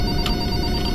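Phone ringing inside a horror-themed video game, a loud steady electronic ring tone filling the whole short moment with no voices.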